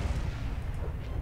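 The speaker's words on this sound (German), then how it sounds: "Das ist schön explodiert gerade." A spaceship exploding during a space battle in the video game Star Trek Online, a short, dense low boom with rumbling bursts that stays loud throughout.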